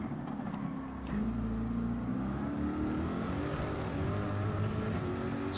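Corvette engine in Gran Turismo 7 droning steadily, then briefly lifting off and blipping through downshifts before pulling again, a continuous mid-level engine note with no talking.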